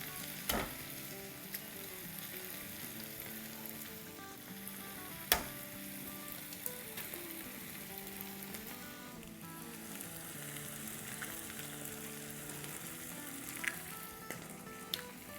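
Eggs sizzling and frying in tomato puree in a pan, a steady close crackle running throughout with a few sharper clicks of utensils against the pan.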